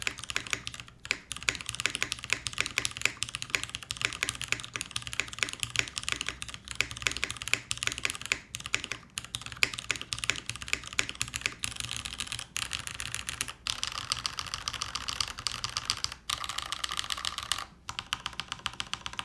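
Fast continuous typing on a Milan TKL top-mount aluminium mechanical keyboard, dense crisp key clacks close to the mic with occasional heavier strokes, no voices.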